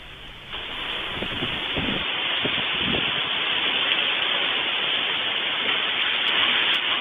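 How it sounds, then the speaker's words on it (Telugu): A gale and heavy rain storm lash Visakhapatnam during a depression, giving a steady, loud, unbroken roar of wind and rain with no voices. "విశాఖలో భీకర గాలులు బీభత్సం సృష్టిస్తున్నాయి"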